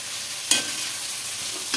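Fried potatoes and capsicum being stirred in a frying pan for a vegetarian potato and soybean dish, with a soft steady sizzle and two brief scraping strokes of the utensil, no talk.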